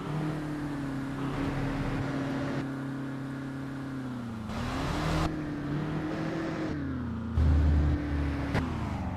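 Heavy truck engine in the TruckersMP driving game revving up and down, a steady loud drone with rises in pitch and bursts of throttle, no talking.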